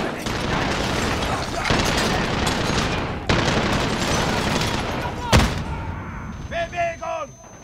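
Gunfire in the video game Call of Duty Modern Warfare on PS4 Pro, a dense sustained burst of rapid shots for several seconds, one sharp loud crack near the end, then quieter sounds with a voice speaking.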